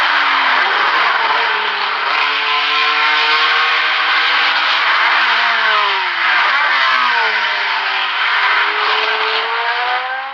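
Race cars at the 1973 24 Hours of Le Mans roar down the Hunaudières straight, a loud, sustained engine wail whose pitch rises and dips as the cars accelerate and shift gears.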